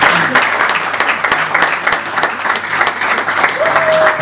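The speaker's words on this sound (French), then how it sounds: "Je vous demande encore de l'applaudir bien fort" A crowd at a charity presentation claps loudly and steadily, a dense continuous burst of applause with a few sharper individual claps standing out and a faint tone rising near the end.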